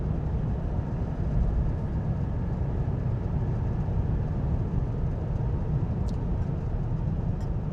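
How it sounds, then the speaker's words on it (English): Cabin of a 2025 Chevy Silverado 2500 HD Custom pickup cruising at 70 mph, a steady low rumble of wind and road noise, fairly subdued, with no one talking. "let you guys listen to the wind noise"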